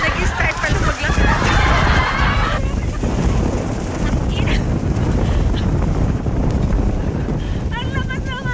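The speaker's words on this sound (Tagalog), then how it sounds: "Ang lakas ng hangin." Strong wind roars across the microphone on a high skywalk in Shizuoka, Japan, a loud continuous buffeting rush with a voice speaking and exclaiming under it.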